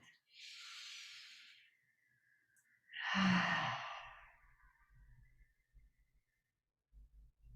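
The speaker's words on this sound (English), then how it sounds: "One more full breath." Deep full breath during a yoga practice: a long airy inhale, then a fuller, heavier exhale with a throaty sigh, close and alone, followed by faint rustling.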